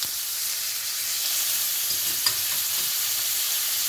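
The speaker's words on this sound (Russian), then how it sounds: "Обжариваю на сильном огне недолго, с двух сторон." A steak sizzles in a pan over high heat, a steady bright hiss of frying fat with a brief crackle partway through, close and alone without any voices.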